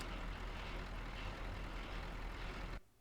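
In the video game Euro Truck Simulator 2, a truck's air handbrake engages: a loud, steady hiss of escaping air lasts almost three seconds, then cuts off abruptly into near silence.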